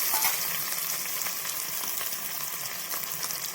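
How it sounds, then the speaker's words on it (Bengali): Chopped Amodi fish fries in a pan for a spicy fish curry cooked without onion or garlic, a steady, bright hiss of sizzling oil with faint stirring clicks, close and continuous, and nobody speaking. "কুচনো মাছটা দিয়ে দেবো। লাল লাল করে ভেজে নেবো।"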